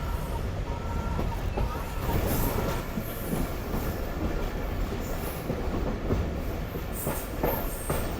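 Passenger train rolling along a railway in Pakistan, with continuous rumble, rhythmic wheel clatter and occasional brief squeals, moderately loud and steady over the whole stretch.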